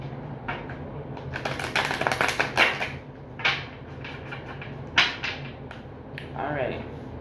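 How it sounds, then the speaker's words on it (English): Tarot cards are shuffled close by in a flurry of crisp riffles and slaps, then a few separate snaps and shuffles follow, over a steady low room hum. "one more shuffle here."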